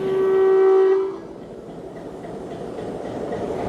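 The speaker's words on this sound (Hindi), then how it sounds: "डिपार्चर विजिल हो चुका है ट्रेन का" Departure whistle of an express train: a loud, sustained horn blast for about a second, then the rolling rumble of the train.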